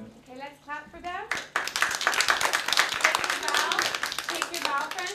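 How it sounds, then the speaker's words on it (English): A group of children claps for classmates after a dance lesson performance; a short stretch of child speech gives way to a dense, fairly loud burst of clapping that continues to the end. "let's clap for them."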